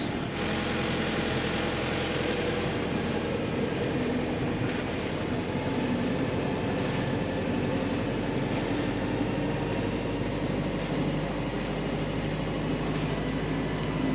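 An engine holds a steady drone at about 1600 RPM during a boat's pull test, a loud continuous low rumble with no voices over it.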